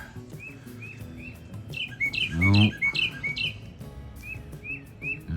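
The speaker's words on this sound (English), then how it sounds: "Let's see if that mama bird found her way back yet." A mother bird near her nest chirps a repeated series of short, bright tweets, fairly close, while a person speaks briefly in the middle.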